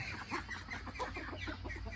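Chickens cluck and squawk continuously nearby in a busy farmyard as two roosters fight, a scratchy flurry of fowl calls with no talking.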